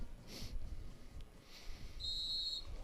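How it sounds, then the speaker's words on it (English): A referee's whistle starts an elite men's cross-country mountain bike race at a US Cup round in Temecula, California: one sustained, shrill blast near the end, heard over steady outdoor background noise. "Race will start with whistle."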